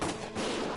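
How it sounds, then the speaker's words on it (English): Dense, continuous gunfire in the video game Valkyria Chronicles Remastered, a loud wash of rapid overlapping shots with no gaps. "Gunfire!"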